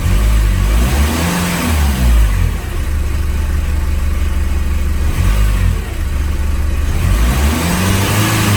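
A car with a turbocharged engine revs and accelerates loudly and close by, the engine note rising and falling in repeated surges with a brief dip between pulls.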